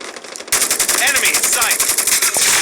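Rapid automatic gunfire from Call of Duty Mobile, dense bursts of shots running almost continuously after a brief quiet start, loud and close, with a faint voice underneath.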